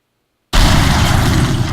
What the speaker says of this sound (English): missile explosions when it hits a wall